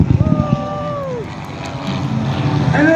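At the Shell Harbour NSW air show, an aircraft flies the Sky Ace split. Its engine drones with a falling whine, wind buffets the microphone, and the noise swells toward the end.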